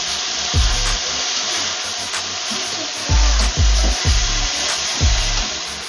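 Lamb adobo seasoned with ground black pepper is stirred in a pan on a Filipino stovetop: repeated heavy scraping strokes in an uneven rhythm over a constant hiss of cooking, close and loud.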